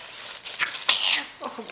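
A short sneeze from someone still recovering from a cold, a sharp burst followed by breathy noise, heard close against a quiet room.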